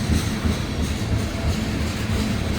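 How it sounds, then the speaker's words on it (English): An ethanol train with buffer cars rolls past nearby, a loud steady rumble of freight wagons with rhythmic wheel clatter over rail joints continuing throughout. "It is indeed an ethanol train."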